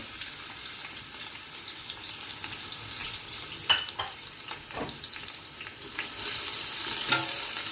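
Onions for yakhni pulao sizzling and frying in hot oil with a steady crackle, stirred occasionally with scraping clicks, close and moderately loud.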